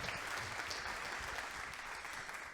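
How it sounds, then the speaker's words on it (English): Steady, even applause from an audience at a fundraising event, dense clapping held at a constant level for the whole stretch with no voices standing out. "Let's give them another big round of applause for kicking us off in our giving moment."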